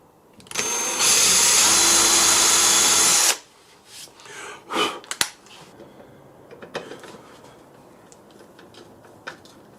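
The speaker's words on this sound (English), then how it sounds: "I'm just going to drill them holes." A power drill whirs loudly for a couple of seconds drilling holes in a homemade 2x4 guitar body, then stops, followed by scattered knocks and handling clatter from the workpiece.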